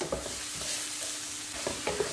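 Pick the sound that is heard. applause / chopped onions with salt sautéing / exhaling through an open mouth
chopped onions with salt sautéing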